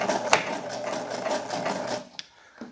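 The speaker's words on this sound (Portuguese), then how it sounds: "Vou descer o pé calcador e agora sim eu vou fazer o retrocesso" Sewing machine backstitching fabric with the presser foot lowered, a steady close mechanical whirr of rapid stitching that runs for about two seconds and then stops, followed by a couple of faint clicks.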